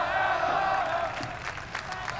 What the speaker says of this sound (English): There is a small section of the crowd cheering for FaZe Clan